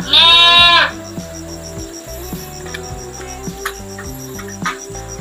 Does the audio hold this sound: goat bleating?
yes